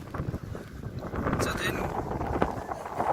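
Wind gusting hard across a misty hill fort, with heavy rumbling buffeting on the microphone throughout and a voice speaking over it.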